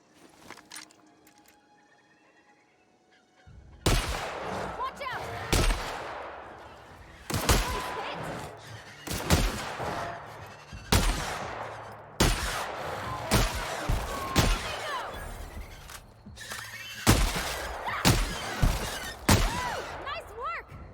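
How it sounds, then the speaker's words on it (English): Shotgun blasts in the video game The Outer Worlds: about a dozen loud, sharp booms fired every second or two after a quiet opening, each with a short ringing tail over busy in-game noise and background voices. "That was the shotgun, wasn't it?"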